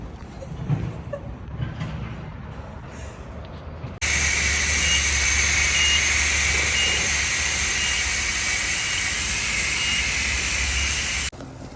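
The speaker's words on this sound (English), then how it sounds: "Yep, I'm gonna spray the poop." A loud, steady high-pressure water spray from a pressure washer in a car wash bay hisses and roars for several seconds, then cuts off abruptly, with quieter ambient noise before and after.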